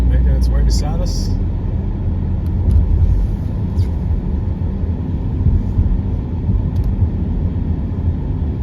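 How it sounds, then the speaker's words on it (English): A huge truck rumbles alongside a car in snowstorm rush-hour traffic on the Gardiner Expressway in Toronto, a steady low engine and road roar heard from inside the vehicle, with a voice talking over it. "Huge truck making its way beside us"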